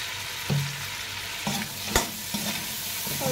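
Lemon-and-salt dish cooking in a pan on a gas stove, with a few sharp scraping stirs of a spoon every second or so over a steady, soft frying sizzle.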